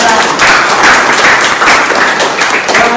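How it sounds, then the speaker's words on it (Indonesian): A classroom of students claps for a classmate, a busy and fairly loud patter of many hands that stays steady and close, with some light thumps mixed in. "tepuk tangan untuk teman kalian"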